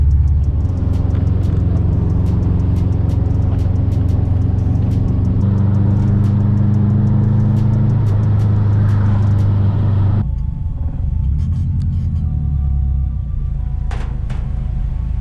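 A stripped Subaru STI with no bumpers or hood drives with a loud, steady engine rumble close by, easing off partway through into a quieter, lower idle-like drone.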